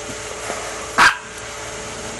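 A little black dog gives a single short bark around the midpoint, mid-loud and fairly close, against steady outdoor background hum and no talking.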